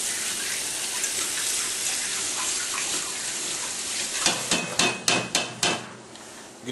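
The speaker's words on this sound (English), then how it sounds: "I'm gonna wash off this spoon." A kitchen tap runs steadily while a spoon is washed, and the water gives way to a series of sharp metallic knocks and clinks, about half a dozen in a quick uneven rhythm, close and fairly loud.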